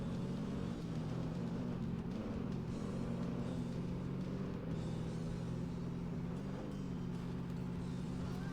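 A truck in ATV Offroad Fury 4 drives steadily with a constant low engine drone and faint game noises, heard alone without talk.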